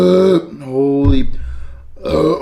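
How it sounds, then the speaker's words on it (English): A person burps loudly after drinking Diet Coke, a short low croak in the middle between voiced sounds, close to the microphone. "You drink this many Diet Cokes, you about to burp a lot"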